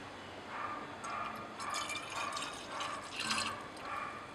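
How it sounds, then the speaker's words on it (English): Liquid filtrate from a phenylacetic acid preparation is poured into a glass separating funnel, giving a close series of regular gurgling glugs about every half second over a steady background hiss. "So we poured it into a separating funnel."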